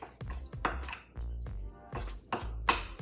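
Thick sweet potato muffin batter being stirred in a bowl, giving repeated wet, dragging scrapes and soft knocks in an uneven rhythm, close and fairly loud with no voices.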